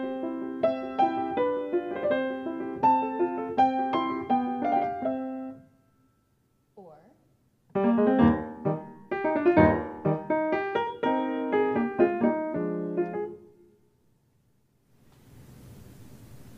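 Solo piano plays a Haydn- or Mozart-style classical sonata excerpt in two bright, flowing phrases separated by a short pause, with melody and accompaniment clearly audible, then fading to quiet room noise at the end.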